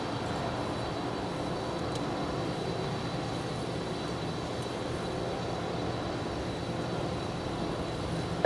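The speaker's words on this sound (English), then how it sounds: "Obviously, this is an old passenger 747." An old passenger Boeing 747 at Los Angeles International Airport gives off a low, steady jet rumble heard from a distance, faint and unbroken across the whole stretch.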